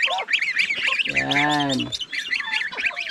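Farmyard geese and their goslings call out with a rapid run of high chirps and peeps, broken by one louder, lower honk in the middle, all close by; someone says a word at the very start.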